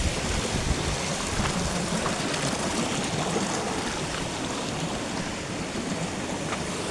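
Water rushes steadily through a village stream, a continuous broadband wash with no breaks, moderately loud and close, with no voices over it.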